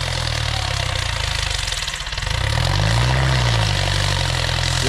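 A Ford 5000 Turbo tractor engine runs loud and close in second gear, a steady low drone that dips briefly and then swells as it pulls harder.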